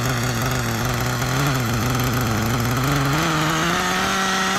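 An old 1997 Kyosho nitro RC car engine idles rich with an exhaust leak, a loud, close, steady buzzing drone whose pitch wavers slightly and rises toward the end, with no talking.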